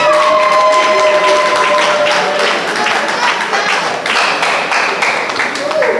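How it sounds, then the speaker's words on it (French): Audience applause fills a graduation ceremony hall, a continuous wash of clapping from a crowd, with voices mixed into it throughout. "Applaudissez pour elle pour ça."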